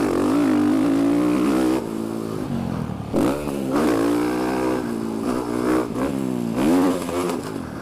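Dirt bike on an off-road track, engine revving and shifting continuously through a lap, loud and close with rising and falling pitch, ridden by a rider wearing an Arai VX-Pro 4 off-road helmet.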